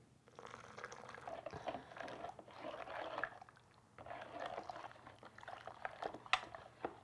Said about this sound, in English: we need to dissolve that really carefully in hot water